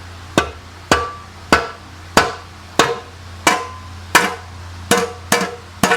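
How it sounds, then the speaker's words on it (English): A rubber mallet strikes a car oil pan on a 2nd-gen MINI Cooper, about a dozen sharp, evenly spaced blows ringing close and loud, each with a brief decay and no talking. "we will take a rubber mallet and we will bust this pan loose"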